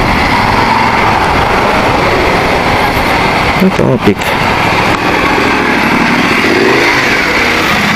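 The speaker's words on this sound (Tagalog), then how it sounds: "Ganda na tulog ng motor niya." A motorcycle engine runs steadily, a close, even drone heard from a rider's camera, with a short bump of handling noise midway and someone speaking briefly over it.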